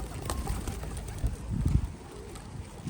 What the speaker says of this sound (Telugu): భలే తింటున్నాయి కదా, భలే ఉన్నాయి కదా బర్డ్స్.